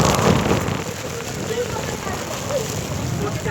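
Steady rain hisses over a rocky mountain path during a family trek to Harishchandragad fort, with a person talking over it and a faint splash now and then.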